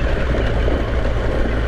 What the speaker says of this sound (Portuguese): Deixa eu dar uma aceleradinha